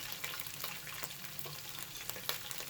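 Whole spices, crushed cardamom pods and two-inch cinnamon sticks, sizzling steadily in hot oil in a pot for beef korma, with a constant crackling hiss and small pops throughout, close and fairly quiet, no talking.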